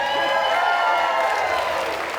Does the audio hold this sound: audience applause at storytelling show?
yes